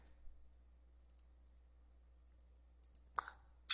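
Mouse clicks during a WordPress install: a couple of short, sharp clicks near the end of an otherwise quiet stretch, close and crisp.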